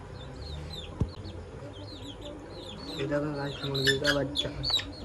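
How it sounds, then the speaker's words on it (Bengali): Chicken chicks give high, rapid peeping chirps close by, with adult hens clucking and a voice talking over them. "দেখো মুরগির বাচ্চা।"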